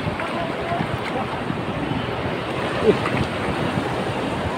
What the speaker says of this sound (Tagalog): Lakas yung alon.